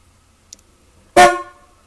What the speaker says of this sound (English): we have horns.